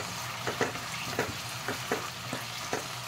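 Crushed raw peanuts are stirred in a pan on the stove, with a soft steady sizzle and several distinct scraping strokes. The sound is near and moderately quiet, with no talking.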